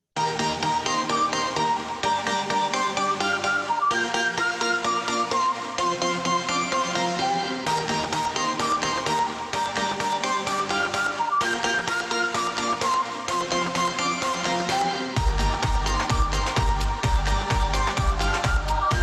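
An electronic dance music loop built in GarageBand plays for about nineteen seconds at steady, loud level, with layered synth patterns and a heavy pulsing bass kick entering near the end. No one speaks over it.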